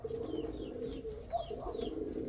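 A fantail pigeon coos in low, soft, repeated murmurs that run steadily from close by, alongside faint chirps and light background noise.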